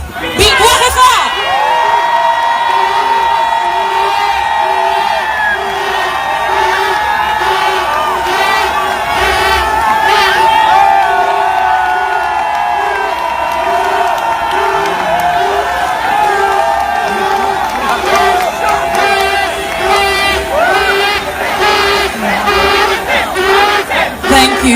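Loud crowd cheering, whooping and shouting at a Cameroonian diaspora gathering as a traditional king is welcomed, with sustained voices and high cries filling the full stretch without a break.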